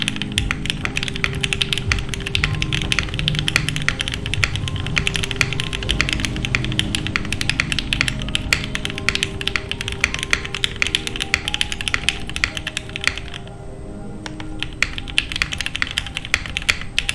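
A Mammoth75 mechanical keyboard with Gateron Black Ink v2 switches is typed on steadily, a dense run of close, crisp clacks and thocks with a short pause near the end before typing resumes.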